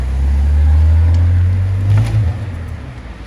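A BMW E46 engine revving on a test drive, a loud, deep droning roar that swells for about two seconds and then drops away as the revs fall, close and without talking.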